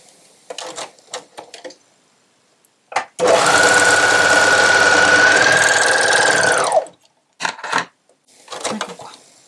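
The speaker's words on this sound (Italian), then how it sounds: "Adesso cucio le spalle." A domestic sewing machine runs in one loud, steady burst of about four seconds while stitching the shoulder seams of a lycra fitness top, with close-up handling noises of the fabric before and after.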